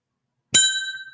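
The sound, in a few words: boxing opening bell ringing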